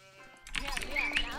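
A sheep bleats in a real-time strategy game, short bright calls rising over game sounds after a quiet start, with people talking.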